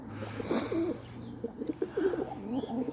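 Pigeons cooing in a loft, soft repeated throaty coos in short phrases, fairly close but quiet, with a brief rustle early on and no talk over them.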